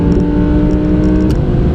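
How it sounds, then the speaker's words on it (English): Audi R8 Performance Pack engine on a track, a loud close steady drone with strong harmonic tones, holding high revs under load. "let's get some pace on the go and see that engine noise"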